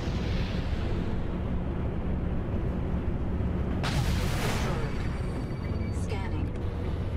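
In the Star Citizen space-combat game, a missile is fired and explodes: a sudden broad whooshing burst rises out of a steady, loud engine rumble and fades over about a second, followed by a fainter second burst.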